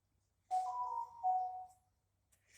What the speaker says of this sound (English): Listen to my other phone blow up.